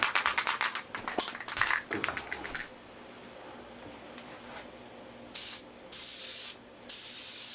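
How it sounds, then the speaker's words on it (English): Bursts of spray hiss with tapping and rattling at first, then several short, sharp sprays of adhesive glue from an aerosol can onto a tufted rug's backing, loud and close, with pauses between. "when I spray my glue on this part"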